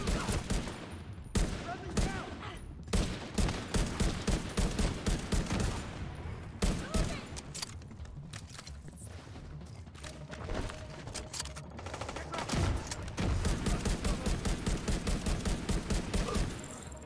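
Gunfire in The Division 2, rapid bursts of automatic shots in rhythmic volleys, loud and close, pausing briefly midway before resuming in steady sustained firing.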